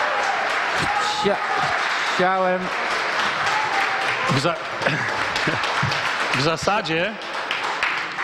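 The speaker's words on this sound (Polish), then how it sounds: "I niepotrzebne oklaski są." Scattered applause during a joint parliamentary committee session, with a brief patter of hands under ongoing talk, as voices speak over and around it in a reverberant hall.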